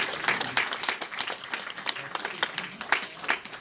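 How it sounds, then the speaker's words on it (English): An audience gathered for a Sunday talk on the marriage of Shiva and Parvati gives a round of applause, sharp overlapping claps in a quick, uneven rhythm, fairly soft and somewhat distant. "Let's give you a round of applause for that."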